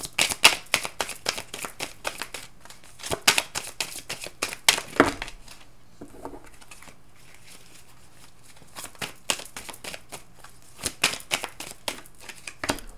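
Tarot cards are shuffled up close in quick, crisp riffling bursts, pausing briefly in the middle before the papery flicking resumes; no one speaks.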